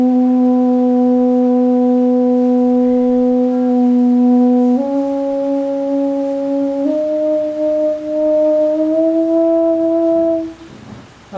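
A flute plays long, sustained melodic notes that step upward in pitch, loud and close with a pure breathy tone, during an expert lecture at a government engineering college in Valsad, Gujarat.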